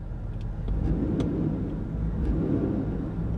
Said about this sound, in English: Give it a little throttle.